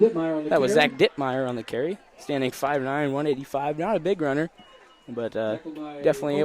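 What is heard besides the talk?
No everyday noises stand out.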